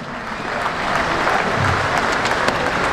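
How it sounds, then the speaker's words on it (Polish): A concert crowd at the opening of the Radom June Freedom concert claps, a broad roar of many hands that swells after the first second and stays full and steady, heard from within the audience. "Wielkie brawa!"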